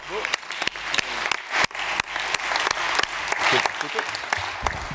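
An audience applauds after people are introduced at a talk session: dense, sustained clapping from a crowd with sharp individual claps standing out, with voices mixed in underneath.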